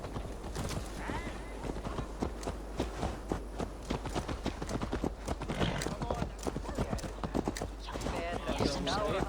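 Horse hooves clip-clop in Assassin's Creed Valhalla, a steady walking rhythm of close, distinct hoofbeats with an occasional whinny, running under ongoing character dialogue and game ambience.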